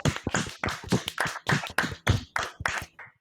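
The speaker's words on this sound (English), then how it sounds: "I have to clap quietly so I don't wake anyone up" Hands clap quietly and indoors, about ten soft separate claps at an uneven pace, close and alone.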